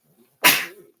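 One sharp, explosive sneeze, close and loud, with a quick burst and a short breathy tail, alone in an otherwise quiet room.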